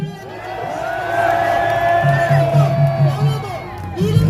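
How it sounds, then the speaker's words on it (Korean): A crowd at a student rally at Korea University shouts and cheers with sustained whooping voices, loud and continuous for the whole stretch, with a brief rise at the end. "큰 박수 부탁드립니다"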